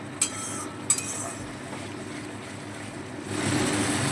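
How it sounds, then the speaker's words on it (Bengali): Spices frying for vegetarian aloo dum are stirred in a pan: two sharp metallic clinks of a spoon early on, then a quiet hiss that swells into a louder sizzle. "আবারও মশলাগুলো একটু নেড়ে চেড়ে মিশিয়ে নেব"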